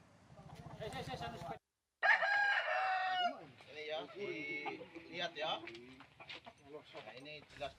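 Roosters seized from a cockfighting arena crow loudly and cluck close by, one long crow followed by more calls, mixed with people talking.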